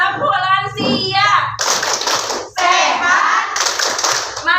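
A group claps in rhythm to the Tepuk lansia clap chant at a village family-planning health outreach session, with bursts of loud, dense clapping following a spoken chant line.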